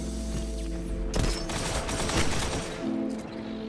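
Rapid gunfire in the Destiny 2 video game, a dense, loud barrage of overlapping shots that continues throughout with no pauses.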